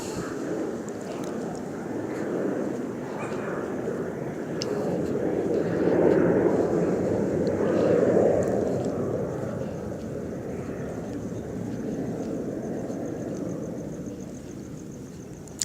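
An airplane passes overhead at night with a steady, broad engine roar. It swells to a peak partway through, then slowly fades, and no one speaks.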